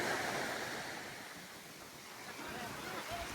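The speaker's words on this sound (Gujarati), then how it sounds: "બીજું મોજું આવશે ને તો એ લીટોને ક્રોસ કરી દેશે" Ocean waves wash onto a beach, a broad rushing swell that fades and builds again, heard from nearby with no voices.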